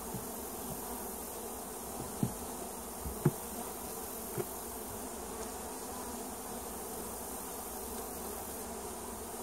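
Honeybees buzz as a dense, steady hum during a check of a swarm hive, with the drone continuous and close throughout and a few soft knocks from handling the hive, and no talk.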